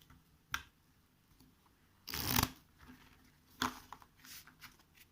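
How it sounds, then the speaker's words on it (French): A deck of action cards for a board game is shuffled nearby in a few short bursts, one longer riffle in the middle and brief snaps of card handling around it, in a quiet room. "je mélange le paquet du coup de cartes"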